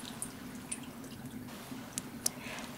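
Water is poured into a large shallow nonstick pan holding cut pears for syrup, producing a faint, continuous trickle broken by a few small drips and splashes, close by and quiet.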